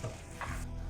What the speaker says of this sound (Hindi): थोड़ा सौटे करेंगे, धीमी आंच में ही सौटे करेंगे।